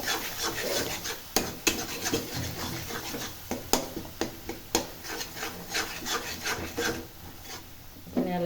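Biryani spice mix is stirred in a cooking pot, giving repeated scraping and rubbing strokes with sharp clinks of the utensil against the pot at irregular intervals, close and alone.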